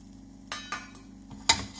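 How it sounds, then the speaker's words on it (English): Whole spices are dropped and swirled in a frying pan over medium heat, making quiet scattered rattles and taps over a faint sizzle in a short, soft burst. "you just heat a frying pan on a medium heat, like this, and then just place the spices"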